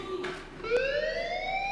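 A school fire alarm in the Life is Strange game sounds as a loud, rising electronic siren tone that sweeps upward and holds steady, close and alone.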